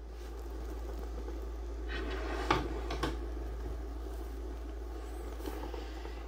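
Ball-bearing drawers in a 2024 Forest River Vibe 28RL travel trailer slide open and shut with a few soft rolling clacks and bumps against a steady low hum, no voices.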